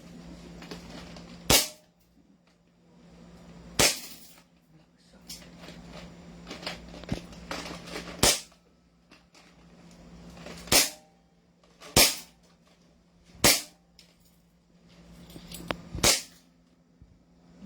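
Sharp cracks from an SRC airsoft gun, seven single shots spaced irregularly about one to two seconds apart, loud and close over a low steady hum.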